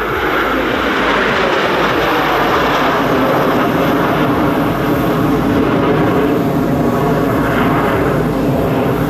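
Aerobatic team jets fly a tango formation loop at the LIMA Langkawi 2023 airshow, giving a loud, continuous roar of jet engines that holds steady and fills the whole stretch without pause.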